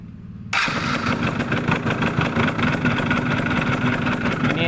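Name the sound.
Yamaha F1ZR motorcycle engine starting and idling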